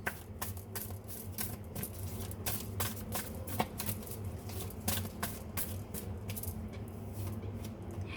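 Tarot cards are shuffled and drawn in a continuous, soft crisp riffling with quick repeated flicks and snaps, close but quiet, with no speech over it.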